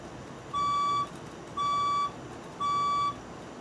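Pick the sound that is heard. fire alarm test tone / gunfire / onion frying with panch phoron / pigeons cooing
fire alarm test tone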